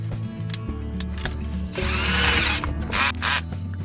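A power tool grinds a small camera mount part, shaving about half a millimetre off it inside a box. It starts with a low motor hum and short bursts, then rises into a louder, harsh hissing grind before cutting off.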